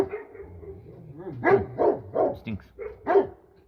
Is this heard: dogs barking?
yes